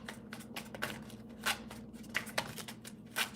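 Tarot deck shuffled by hand, a run of crisp papery riffles and taps in irregular bursts over a low steady hum.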